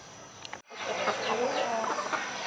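Chickens cluck and murmur nearby while eating black soldier fly larvae, a busy, continuous flock chatter after a brief cut at the start.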